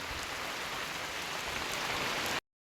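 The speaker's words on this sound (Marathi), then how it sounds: "पाऊस आलाय म्हणून आता आम्ही थांबलो इकडे" Steady rain pours down in a dense, even hiss for a couple of seconds, then cuts off abruptly into silence.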